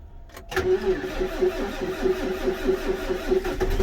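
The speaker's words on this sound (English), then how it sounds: "This MAN engine, let me tell you, it's pretty freaking awesome." A MAN engine cold-starting: a short crank, then it catches and settles into a loud, rhythmic, throbbing idle close by.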